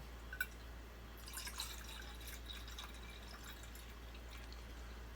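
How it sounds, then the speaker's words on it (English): Water is poured into a small heater to be warmed for coffee, a faint splash and trickle that fades into a steady low hum. "So I'm going to put in water."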